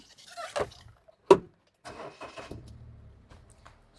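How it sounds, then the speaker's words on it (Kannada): A Maruti Wagon R VXI running on CNG is started, giving a brief crank burst followed by a quiet, smooth idle hum, with faint background sounds around it. "ನೋಡ್ರಿ ಇಂಜನು 1 ಸೆಕೆಂಡ್ ಚಾಲು ಮಾಡ್ತೀನಿ ನೋಡ್ರಿ"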